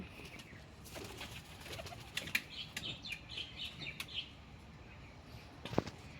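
Pigeons flap their wings around a newly built loft, a string of soft, quick flutters with one sharper burst near the end, and faint coos and chirps scattered through.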